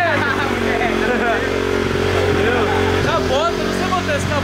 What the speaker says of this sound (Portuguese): o Rê foi colocar uma bota de motocross pra tentar dar partidinha nela.